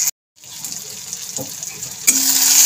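Boiled lentils are poured into a cooking pan, a short watery splash and slosh followed by a rising sizzle as the liquid hits the hot pan, close and brief.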